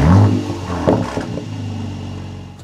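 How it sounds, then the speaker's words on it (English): A Mercedes-AMG starts with the Emotion Start function, valves fully open: a loud, close burst of revving engine right at the start, then a settling, throaty rumble that fades to a steady idle. "This will start the car up with the valves fully open. It will give it a little bit of throttle"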